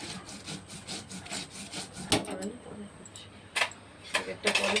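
Chillies are ground on a kitchen grinding stone: steady, rhythmic scraping and rubbing strokes, close by, with a few sharper knocks later on.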